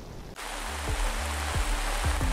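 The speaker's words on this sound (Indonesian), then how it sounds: "Hujan deras yang mengguyur hampir 3 jam lebih membuat warga kesulitan menuju tempat pemungutan suara atau TPS." Heavy rain pours steadily, a dense broadband hiss that swells in after a brief quiet start, with low periodic thumps beneath, during a village election day in Indonesia.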